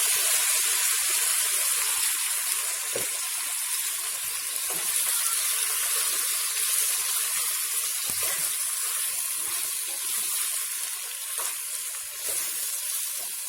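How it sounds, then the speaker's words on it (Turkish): Vegetables, green beans and purslane for a mixed türlü stew, sautéing in a pot with garlic, giving a steady, moderately loud hiss and sizzle throughout with a few faint clinks. "Şimdi içine malzemelerini atıyorum. Biraz kavuracağım."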